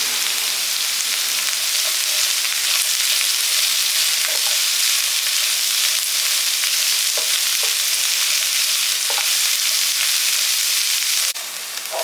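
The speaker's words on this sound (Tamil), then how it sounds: "எல்லாமே சேர்த்து நல்லா வதக்குங்க" Mixed vegetables sautéing in a pan for chickpea fried rice, a loud, steady, close sizzle throughout, broken by occasional soft stirring clicks.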